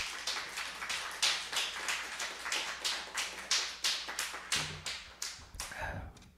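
Applause from a church congregation at a Sunday worship service, heard as rhythmic, fairly even clapping that comes in regular pulses and fades out toward the end.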